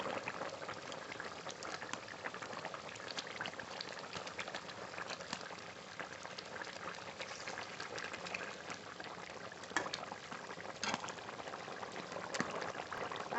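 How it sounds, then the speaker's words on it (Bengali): Bengali pangas fish curry with potatoes bubbles in a pot, a soft, steady simmer with faint pops and gurgles, quiet and close, with no talking. "ঝোল খুব ভালো করে ফুটে গেছে আলুও গলে গেছে"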